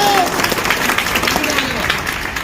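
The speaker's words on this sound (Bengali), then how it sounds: "জোরে তালি হবে, তালি চাইতে হবে।" An audience claps loudly at a Forever Living business success-story gathering. The applause forms a dense, steady wash with crowd noise and some voices mixed in throughout.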